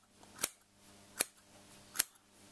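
Three sharp, separate snips from scissors cutting the angled end of fabric for a scarf shawl, close and crisp, spaced roughly evenly in a quiet room.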